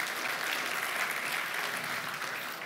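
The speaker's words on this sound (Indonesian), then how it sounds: "Sekali lagi berikan sorak-sorai kemuliaan buat Tuhan kita" A church congregation claps and cheers in praise during a worship service, a steady, even wash of applause that holds at full strength for the whole stretch.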